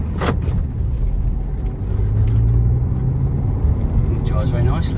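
A 2016 Jeep Renegade Longitude with the 1.6 M-Jet diesel engine is out on a road test. A steady low engine and road drone fills the cabin, with a slight rise in engine note partway through.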